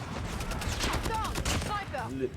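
Rapid bursts of OTs-9 gunfire in Call of Duty Mobile, dense repeated shots with game effects layered over a steady loud background, continuous through the clip.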